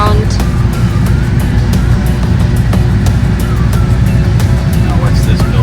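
A car driving along on a road trip, steady road and engine rumble with rattling cabin noise heard from inside, loud and continuous, while people talk over it.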